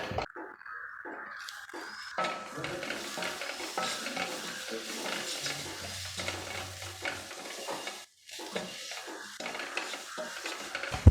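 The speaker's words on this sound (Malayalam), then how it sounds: "തക്കാളി ചേർത്തിട്ട് ഒന്ന് ഇളക്കി കൊടുത്തിട്ടുണ്ട്" Chicken curry in a pan being stirred after tomato goes in, a steady close scraping and sizzling with spoon clinks against the metal, continuous with a brief pause near the end.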